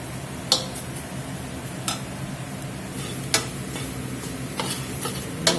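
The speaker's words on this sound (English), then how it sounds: "Let that flour and them seasonings toast up there a minute or two." Flour and seasonings toast in hot oil for carne guisada, a soft steady sizzle broken by a handful of sharp spoon clicks and stirring taps against the pot.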